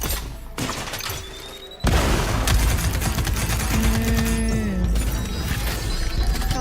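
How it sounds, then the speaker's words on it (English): A thruster grenade explodes against a heavily armored turret in a first-person shooter video game, a sudden loud blast followed by sustained rapid gunfire, debris crashes and whirring weapon tones. "This turret is protected with heavy armor. Let's toss a thruster grenade to deal massive damage."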